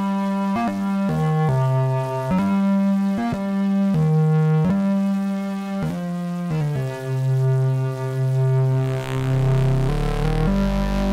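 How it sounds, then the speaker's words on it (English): A physical-modeling synthesizer's flute tone with a buzzy bass synth layer plays a monophonic melody of sustained notes, clear and alone. "So it's a flute sound with also kind of like a bass synthesizer added to it."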